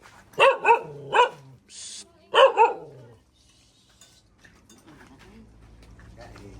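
A dog barks several times in quick, loud bursts nearby, then falls quiet, leaving faint background noise.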